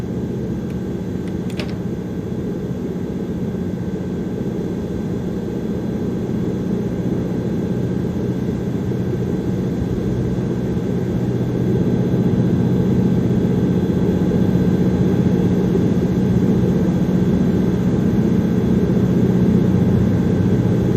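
An aircraft engine warming up in Airport Sim: a steady, loud, low droning hum with a faint whine above it, holding constant throughout and swelling slightly partway through, with no voices.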